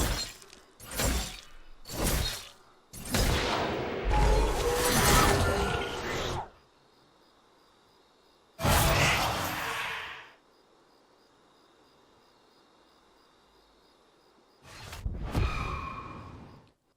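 Bursts of magical shattering, whooshing and breaking effects for Viego's passive ability in League of Legends, loud clustered hits separated by near-silent gaps, then a final swelling burst.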